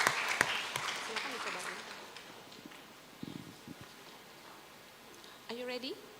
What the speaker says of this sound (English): Please give a round of applause to Mr. Yusuf.